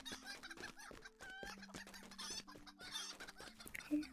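A small flock of chickens clucking close by in a busy, overlapping chorus of short calls. A faint sustained musical tone plays underneath throughout.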